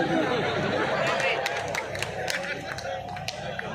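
Audience at a Hindi comedy poetry show, with scattered clapping and chatter mixed with murmuring crowd noise throughout a short stretch, voices audible over it.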